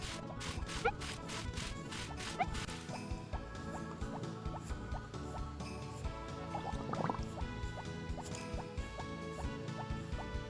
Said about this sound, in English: So a big speed up here, watering all the crops.